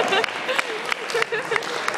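Audience clapping for volunteers at a university orientation hypnotist show, moderate applause with a voice speaking over it.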